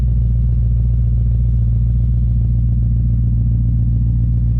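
A Whipple-supercharged 5.0 engine settles into a steady idle just after starting, giving a loud, continuous, bass-heavy rumble that stays even throughout without revving.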